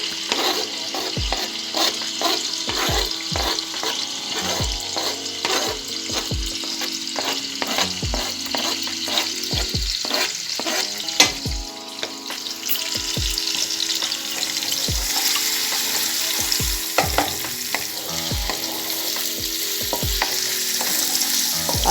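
Finely chopped ginger is added to toasted cumin in a pan for an onion- and garlic-free aloo sabzi, and it fries with a steady bright sizzle while a spoon scrapes and stirs in repeated close, sharp strokes.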